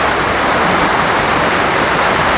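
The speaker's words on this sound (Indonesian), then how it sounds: "Oke, baru air terjun pertama dan masih ada lagi ke atas terus." Curug Paniis waterfall in Pandeglang, the first of several falls, roaring as a dense, constant wash of water noise that fills the space, loud and unbroken with no voices.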